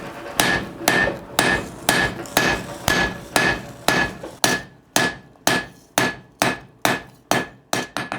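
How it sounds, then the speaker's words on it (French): A blacksmith strikes hot steel with the flat face of a hammer while forging a rolled knife handle, about fourteen sharp metallic blows in a steady rhythm, each ringing briefly before the next, loud and close with no talk. "on va pouvoir passer avec la table du marteau, donc la partie plate, pour effacer tous les creux et bosses"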